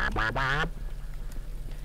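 A duck call instrument known as the Dirty Duck 2 blows two short, deep, ghostly quacking notes in quick succession, loud and close, then stops, leaving low background hum.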